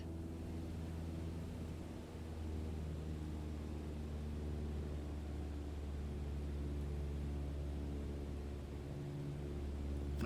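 A light aircraft engine in Microsoft Flight Simulator, throttled back to cruise. It holds a steady, even drone with a low hum and faint noise throughout, and there is no talk.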